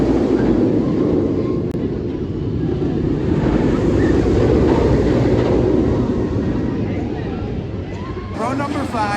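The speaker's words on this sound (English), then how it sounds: "The train's coming in right now." A roller coaster train at Kings Island rolls into the station with a steady, loud rumbling roar that stays close and even, with a person talking briefly near the end.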